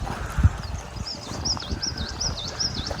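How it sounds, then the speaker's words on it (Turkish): A bird sings a repeated, bright warbling phrase at a foggy streamside campsite in the Andırın Elmadağ mountains. The song comes from a moderate distance over low rumbling and the rush of the stream, with a few soft thumps nearby. "Kuş seslerini duyuyorsunuz"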